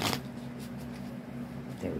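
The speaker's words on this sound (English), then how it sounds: "One more shuffle." Tarot cards being shuffled by hand, a soft riffling flutter near the start and again at the end, over a steady low hum of background noise.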